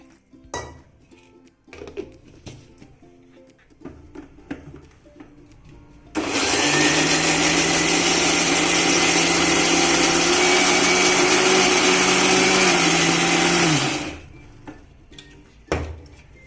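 Mixer grinder whirring through beetroot chutney in a kitchen, quiet clatter of utensils before a loud, steady high-pitched motor whine kicks in for about eight seconds, then cuts off back to small clinks.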